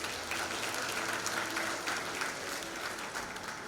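Steady applause from a seated audience fills a graduation ceremony for University of Seychelles graduates, a dense even wash of many hands clapping at moderate distance with no pauses.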